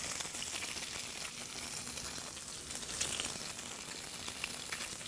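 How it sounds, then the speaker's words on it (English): Fish fillets sear in hot olive oil on a Vollrath Mirage Pro induction range, giving a steady, dense sizzle that runs throughout with small crackles and pops, fairly close and with no talking. "we'll get our fillets in there to sear the fillets"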